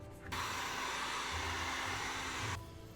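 A heat gun blows steadily while curling a gauntlet pattern piece. It switches on with a sharp onset, holds a loud, even whooshing roar for about two seconds, then cuts off abruptly.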